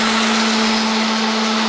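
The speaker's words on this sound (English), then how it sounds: "Kaylee's just sanding the table for the last time." Power sander whirring steadily over a wooden tabletop with a strong constant hum and broadband grinding hiss, close and continuous with no talk.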